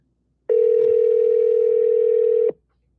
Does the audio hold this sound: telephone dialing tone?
yes